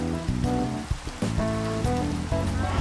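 Steady rain pours down in the video game Minecraft, a continuous dense hiss that lasts the whole stretch. Tonal game music plays over the rain.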